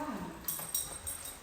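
A dog in training lets out a few faint, short whimpers and high yips, quiet and close, spaced across a brief moment.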